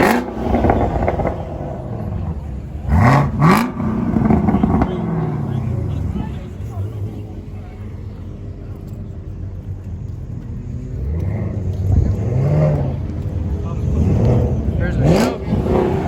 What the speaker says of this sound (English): Damn, that Z01 sounds nasty.